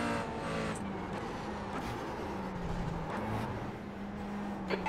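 A McLaren 570S GT4 race car engine in the iRacing simulator drones steadily at high revs, a continuous loud mechanical roar with slight pitch shifts, no voices.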